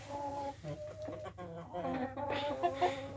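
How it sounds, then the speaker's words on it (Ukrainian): A hen clucks repeatedly at close range in a steady, murmuring series, with a louder squawk-like cluck toward the end. "От вже курочка муститься нестися"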